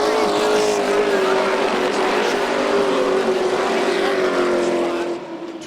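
Pro trucks race on a dirt track in Florida, their engines making a loud, sustained roar that holds steady and then drops slightly at the end.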